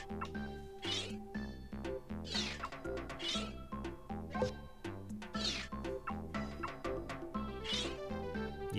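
Meowth, the cat Pokémon, cries repeatedly in Pokémon Snap, its meows rising over bouncy game music in a steady rhythm, with no talk.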